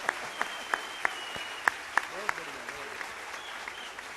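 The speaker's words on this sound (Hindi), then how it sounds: "एक बार सभी तालियां बजाओ" Sparse, scattered handclaps from an audience at a kavi sammelan poetry recital, a handful of sharp claps spaced irregularly over faint background murmur, fading out toward the end.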